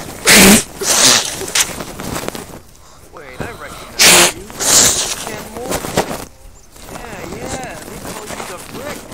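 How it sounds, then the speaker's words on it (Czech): A person with a heavy head cold blows their nose, two loud noisy bursts about four seconds apart, each followed by sniffing and rustling, heard over background game sounds and talk. "Se potřebuji vysmrkat, že mám rýmu jak hovado."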